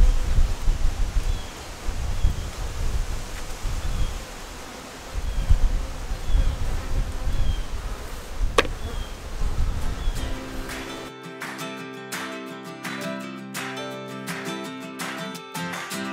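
Saskatraz honey bees buzz around an open hive during a swarm-cell check, a steady near hum with rustling for about eleven seconds before giving way to a distinct rhythmic mechanical pattern.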